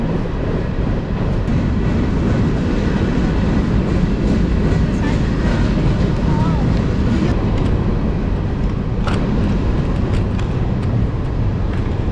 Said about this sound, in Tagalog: At ayun po, guys, yung train. Mahabang train.